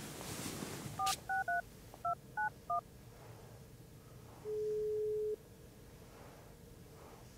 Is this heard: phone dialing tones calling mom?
yes